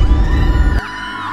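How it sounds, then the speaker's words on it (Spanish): Screaming in a Roblox game, a loud burst of crowd-like yelling and whooping that cuts off abruptly partway through, leaving a quieter tonal hum. "Los gritos vienen del puente."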